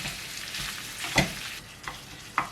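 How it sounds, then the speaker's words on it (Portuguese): Ground meat sizzles in a pan with onion while a spoon stirs and breaks it up, a steady soft frying hiss punctuated by a few sharp scraping stirs. "Agora eu vou fritar e vou com a colher soltar a carne, misturá-la bem com a cebola"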